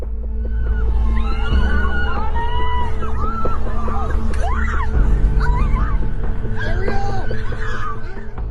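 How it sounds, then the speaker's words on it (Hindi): People scream and shout in chaotic footage, several high, wavering cries rising over a loud rumbling background, with a crowd babbling throughout. "इस वीडियो फुटेज में इंसानों की चीखें भी सुनाई दे रही थी"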